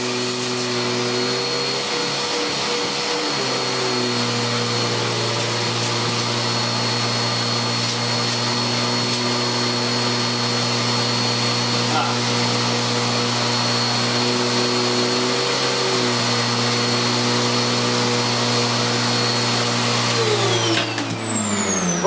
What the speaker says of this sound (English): so we'll give this a bit of a vacuum off.